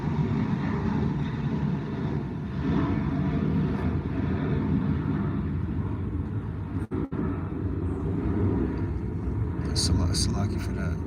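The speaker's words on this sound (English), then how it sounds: "Let this plane go by." Airplane flying overhead outdoors, a steady broad low rumble that swells and lingers for several seconds with someone speaking over it.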